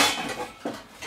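A pan and cutlery are cleared away after cooking with a Dutch oven, producing loud metallic clanks and scrapes close up, with a sharp clatter near the end and no talk.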